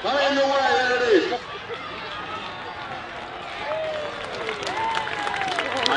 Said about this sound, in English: Give a big cheer, ladies and gentlemen.